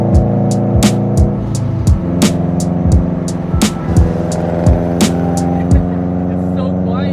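A modified 2020 Subaru WRX driving, its engine giving a steady low drone with repeated sharp transient bursts, heard up close from a rolling vehicle.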